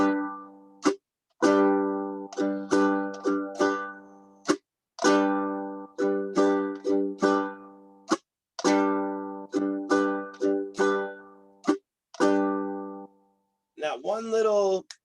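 Guitar strummed slowly in a down-down-up pattern, ringing chords with crisp attacks and short gaps between strokes, close and clear, ending with a quick muted flourish.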